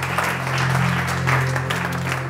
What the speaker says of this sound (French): Nous acclamons un peu.